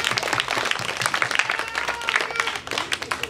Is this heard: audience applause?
yes